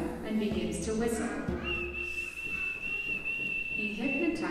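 A person whistles a long, steady, high tone to hypnotize someone beside a log in the animated tale of the crane, heard over background music and noise.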